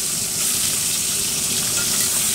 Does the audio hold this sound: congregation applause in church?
no